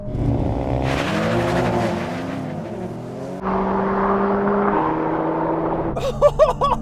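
Engines rev hard as an AMG and an Audi RS3 launch in a drag race, rising and shifting tones climbing through the gears, loud and close, with a sharp change partway through and fluttering high notes near the end.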